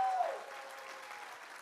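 Applause from a wedding reception audience, a steady wash of clapping that starts fairly strong and holds through to the end with no break.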